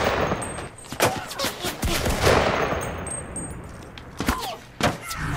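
Gunfire in the Cuisine Royale battle royale game: several sharp shots and short bursts at irregular intervals over a steady background, with no talking.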